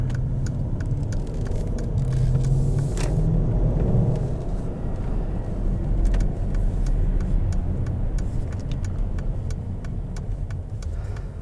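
A 2017 Mercedes-Benz GLS 550 with a twin-turbo V8 running while driving, a steady loud low engine drone with road rumble from inside the cabin, with light ticking clicks scattered across it.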